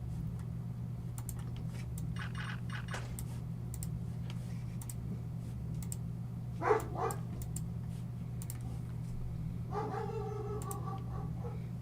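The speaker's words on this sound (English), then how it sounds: "Oh, puppy dogs." Dogs in the video game Meridian 157 give a few short, faint barks and yelps in separate groups, set over a steady low mechanical hum with scattered light ticking.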